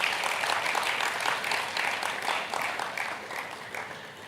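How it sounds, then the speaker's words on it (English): A lecture audience gives Dr. Tope Faswa another round of applause, a steady crowd clapping that goes on evenly and unbroken, slightly distant, with no speech on top. "please let's give Dr. Tope Faswa another round of applause"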